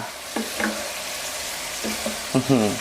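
Pork belly with fish sauce stir-roasting in a wok, a steady nearby sizzle with a few short bursts of spatula scraping and tossing spaced through it, with no speech over the cooking.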